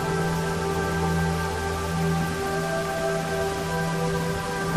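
Steady rain falls in a fantasy video game trailer, a dense wash of drops that keeps up at an even, fairly loud level alongside sustained musical tones, with no voices.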